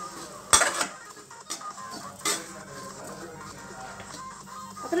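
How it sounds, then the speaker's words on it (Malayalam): Urad dal and spices roast in a pan while a utensil stirs, producing loud metallic clanks and scrapes against the pan in irregular bursts over a faint background hiss, with no talk. "അപ്പോൾ നമുക്ക് ഇതും കൂടെ ബ്രൗൺ ആകണം വരെ നമുക്ക് നല്ലപോലെ ഇളക്കി കൊടുക്കാം"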